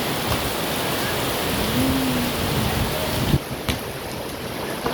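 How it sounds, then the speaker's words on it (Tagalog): A steady roar of heavy rain in rural Iloilo, Philippines, fills the space, broad and constant, with a few louder splashes and knocks near the end. "Sobrang lakas ng ulan."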